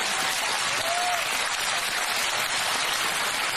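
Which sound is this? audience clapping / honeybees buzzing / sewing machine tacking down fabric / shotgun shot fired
audience clapping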